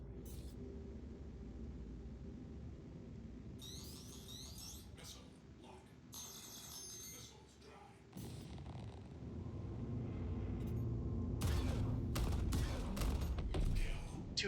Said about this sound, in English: I'm just hitting them with missiles